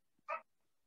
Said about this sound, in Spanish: Es un perrito